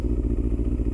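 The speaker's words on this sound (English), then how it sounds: "I gotta leave it running because I gotta get a new battery for it" A motorcycle engine idles nearby, left running because of a failing battery, giving a close, steady loping rumble with even pulsing beats and light mechanical clatter.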